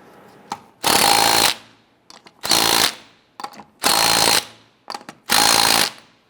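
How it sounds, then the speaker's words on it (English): An impact wrench snugs down the rear wheel lug nuts on a 1997-2006 Jeep Wrangler in four loud, rattling bursts of about half a second each, separated by short pauses with small clicks. "and then we'll come on back and snug them down."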